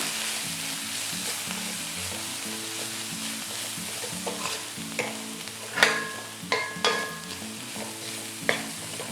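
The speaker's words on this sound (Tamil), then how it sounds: "எல்லாத்தையும் வந்து நல்லா மிக்ஸ் பண்ணிக்கலாம்." Masala with cabbage rice being stirred and fried in a pan, a continuous soft sizzle broken by scraping strokes of a spoon and several sharper clatters against the pan toward the end, close and without speech.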